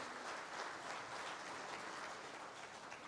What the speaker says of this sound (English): We are clapping and we are ready to invite you with our claps.